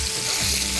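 Fish frying in hot oil, turned once golden brown, giving a steady close sizzle throughout the short moment with no voices.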